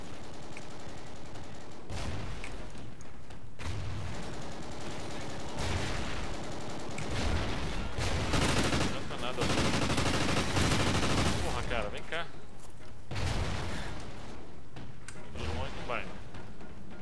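Bursts of rapid automatic gunfire and explosions in a video game, coming in repeated volleys with brief lulls between.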